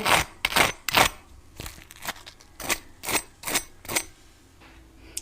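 Crispy fried potato nuggets crunching as they are broken or bitten, a string of sharp, crackly bursts at an uneven pace, close and fairly loud with no voices over them.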